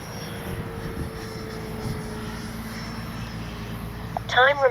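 A small FMS F-16 64mm electric ducted-fan RC jet flies outdoors, its faint steady whine holding in the distance under wind noise while a person talks, ending with louder nearby handling sounds.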